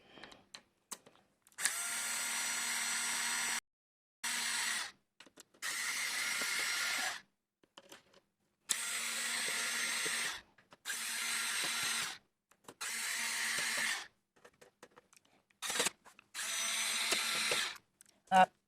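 An electric screwdriver whirs in repeated bursts of a few seconds each, separated by short silences, as screws are removed from the casing of a Toyota KS787 knitting machine, close and steady.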